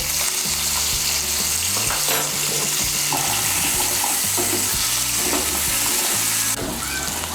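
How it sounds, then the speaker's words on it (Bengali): About 200 grams of new potatoes fry in a karahi with salt and turmeric, hissing loudly and steadily, broken by occasional stirring knocks and scrapes. "এর মধ্যে সামান্য একটু নুন আর সামান্য একটু হলুদ গুঁড়ো দিয়ে আলুগুলোকে আমি ভালো করে ভেজে নেব"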